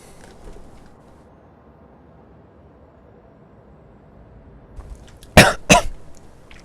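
Two sharp coughs close together near the end, loud and close, after several seconds of near silence with a faint low background.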